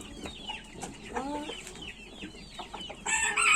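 Chickens cluck and squawk nearby in short bursts, with a roughly seven-year-old rooster among them, the calls growing louder and busier near the end.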